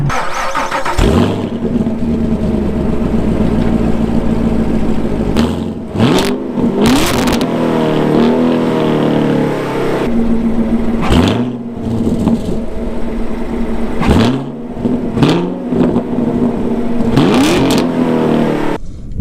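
A 2016 Chevrolet Camaro SS V8 revs loud and close in repeated bursts, each climbing then dropping, with gear-change breaks between pulls over a constant engine drone.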